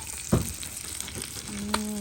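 Dried chillies roast inside a home cooking stove fire, giving a close, continuous sizzling crackle with a few louder pops.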